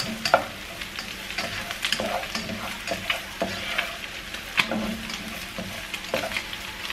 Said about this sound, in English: So over here, kind of breaking up our pork, making sure it's nice and cooked up.